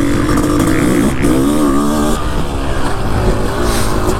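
A 500CR motorcycle engine revs loudly and close, its pitch rising and falling through a steady, continuous drone with no voices over it.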